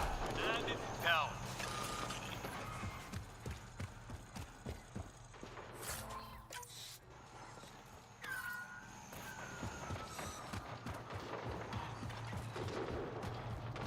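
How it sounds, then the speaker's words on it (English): Gunfire in the sci-fi video game Mass Effect Andromeda crackles in scattered bursts and single sharp shots at a distance, under ongoing game sounds and talk. "hear gunshots over there"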